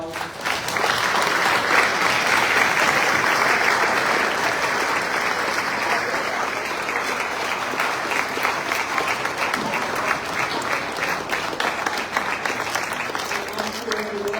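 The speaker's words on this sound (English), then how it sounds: "Let's give our guests a round of applause." A community mixer crowd gives guests a long, sustained round of applause, dense and even throughout with faint voices mixed in.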